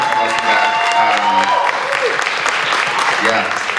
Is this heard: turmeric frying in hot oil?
no